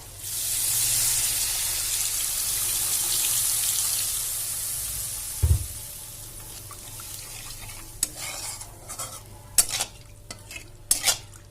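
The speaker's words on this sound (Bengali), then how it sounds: "এবার আমি এতে জল দিয়ে দেব।" Water poured into hot fried spices for a Bhola fish curry (macher jhal) gives a loud, broad sizzle that starts strong and slowly fades, followed by scattered stirring clinks and scrapes in the pan.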